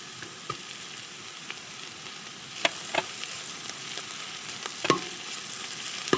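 Garlic sizzling in a pan of hot oil with onion and green chilli, a continuous close frying crackle with scattered sharp pops and spatters.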